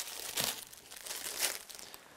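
Plastic wrapping around plaster of Paris splint material crinkles up close in two clear bursts of crackling, with quieter rustling between them.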